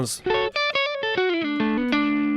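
An electric guitar on the neck pickup through an amp simulator's first channel plays a quick melodic run of distinct notes, clean to slightly driven, ending on a sustained note.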